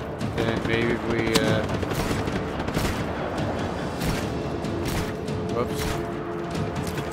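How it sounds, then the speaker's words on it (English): Explosions and gunfire erupt in the video game Just Cause 3, a dense, loud barrage of bursts and booms with a crackling rumble that fills the scene while someone talks over it. "Watch the explosion."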